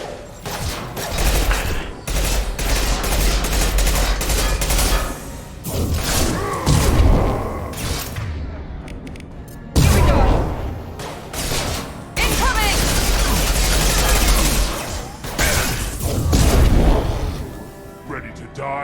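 Sustained bursts of gunfire and heavy thuds in a Mass Effect firefight, loud and close, with booming impacts that pause briefly midway, while voices talk over the combat.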